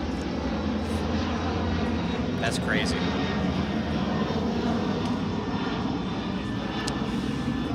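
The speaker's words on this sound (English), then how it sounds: "Wow, that plane is low." A low-flying airplane passes overhead with a loud, steady engine roar that fills the whole stretch, while people talk nearby.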